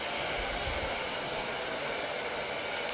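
A hair dryer blows steadily and close while drying a short layered haircut, a continuous even whoosh holding without a break.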